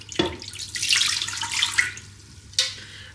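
Water poured into the pot of a Ninja Foodi cooker for steaming: a steady, close splashing rush that runs for about two seconds, then a short final splash.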